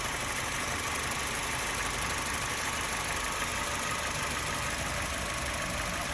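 A used car's engine idles steadily at close range, a constant dense hum with an even, churning texture and no change in pace, with no one talking.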